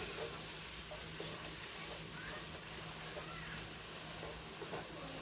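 Green salsa stirred into browned pork enchilada filling in a hot pan, a steady close sizzle and frying hiss with soft stirring scrapes underneath.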